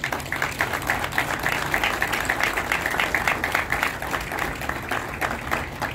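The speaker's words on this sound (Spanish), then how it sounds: "para quien pido un fuerte aplauso" Audience applause at a mural unveiling at a university arts faculty, a steady, dense wash of clapping that holds at an even level for the whole stretch with no one speaking over it.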